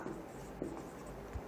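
Chalk or marker scratches briefly across a board as an electron configuration is written during a chemistry lesson, a close, continuous rubbing stroke.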